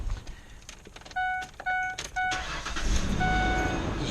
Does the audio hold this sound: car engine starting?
yes